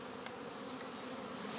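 Honeybees buzzing densely around a swarm box after a swarm is shaken in, a steady close-up hum with no talk.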